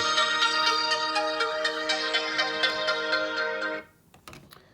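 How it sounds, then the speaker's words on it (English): A phone alarm ringtone plays a repeating electronic melody loudly for several seconds, then cuts off abruptly, leaving a few faint clicks. "And that's my alarm to leave for the day."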